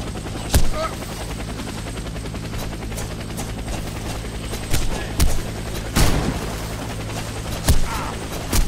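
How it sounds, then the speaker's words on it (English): Helicopter in the Warface co-op shooter, a steady rotor drone running throughout beneath a few sharp gunshot bursts. "Proceed to the helicopter."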